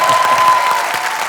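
A French TV-show studio audience breaks into brisk applause during a roast, a dense close clatter of many hands that stays full for about a second before easing slightly.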